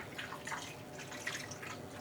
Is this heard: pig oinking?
no